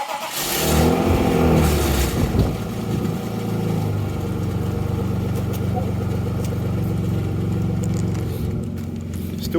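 A car engine revs and then settles into a loud, growly, rumbling idle with an uneven throb, heard close up and steady throughout.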